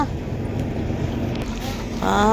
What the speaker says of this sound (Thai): โอ้ยลมแถวนี้